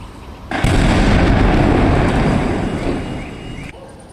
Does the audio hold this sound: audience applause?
no